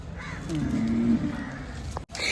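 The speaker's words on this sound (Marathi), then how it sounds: "समाधान भाऊ यांचे आदात वासरू हे बघू शकता" A single drawn-out low moo from a calf, close by, with a faint bird call in the background.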